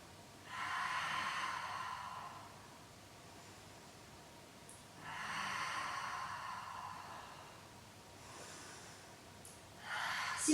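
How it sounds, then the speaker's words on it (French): Three long, steady breaths pushed out through the mouth during a Pilates exercise, each a soft airy rush lasting a couple of seconds, separated by quiet pauses, close and fairly faint with no talking. "Soufflez par la bouche."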